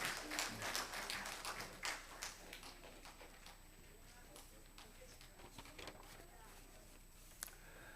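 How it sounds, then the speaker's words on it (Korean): A church congregation applauds children who performed for a Mother's Day service: dense clapping, loudest at the start, then thinning and tapering into scattered claps with voices murmuring underneath. "큰 박수로 다시 한번 우리 감사의 마음을 전하겠습니다."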